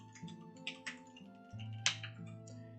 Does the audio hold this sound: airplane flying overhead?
no